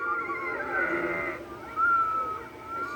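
Sheep bleat in a cartoon, a wavering nasal cry followed by a second, shorter bleat, close and clear over a soft background.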